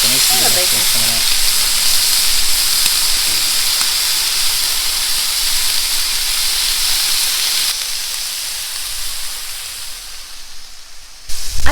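Bacon on a Blackstone griddle gives a loud, continuous hissing sizzle, steady throughout, with voices talking faintly early on and a clatter at the very end.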